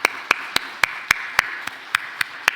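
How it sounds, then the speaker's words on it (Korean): A church congregation at a New Year special early-morning service claps in unison. Sharp, crisp claps land in an even, quick rhythm, about ten in a row at steady loudness, with no talking heard. "하나님께 영광의 박수 올려드립니다"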